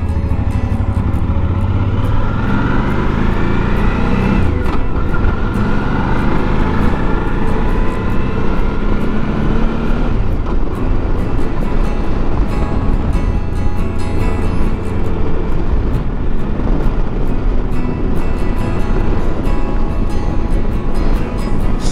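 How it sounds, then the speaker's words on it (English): Loud, constant wind roar buffets over a low engine rumble from a Suzuki V-Strom DL1000 motorcycle being ridden on a very windy day, steady and unbroken throughout. "It's a very windy day"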